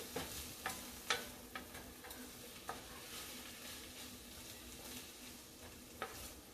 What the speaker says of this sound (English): So here's my wooden spoon. We're just going to go ahead and toss this around.